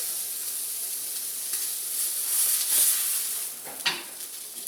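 A jalapeno burger patty sizzles on a hot grill with a steady, close, hissing fry, and a couple of brief scraping knocks as it is flipped over.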